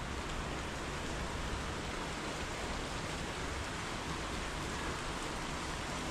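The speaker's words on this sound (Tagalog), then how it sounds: "lumalakas yung ulan mga katrops" Heavy rain falls in a steady, even hiss that fills the whole clip, unbroken and constant.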